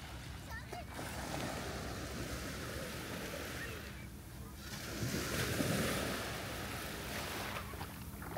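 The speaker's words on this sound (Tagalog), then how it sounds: "Nandito tayo sa magandang beach ng Alhambria Beach." Ocean waves wash onto Alhambria Beach in a continuous rolling roar that swells and recedes, with wind buffeting the microphone.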